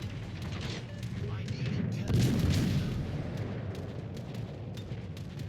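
Warship guns fire in World of Warships Legends, deep booming blasts and rumbling artillery roll through the scene with one louder burst midway, while someone talks over the battle.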